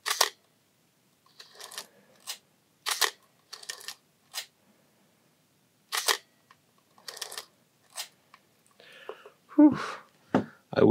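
Repeated mechanical clicks and clacks from a Pentax K1000 film camera, the shutter firing and the film advance lever winding, each crisp and close with short silences between, followed by a person speaking briefly.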